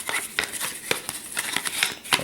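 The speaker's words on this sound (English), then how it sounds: "Shuffle them a little bit. Kind of hard to effectively shuffle, just 4 tiles." Four Mage Knight board game tiles are shuffled by hand on a table, giving a quick run of light clicking and sliding taps, close and fairly quiet.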